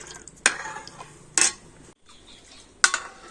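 Milk coming to a boil in a kadai (wok) is stirred with a metal utensil, producing three sharp scraping clinks spaced about a second apart over a quiet background, close by with no voices.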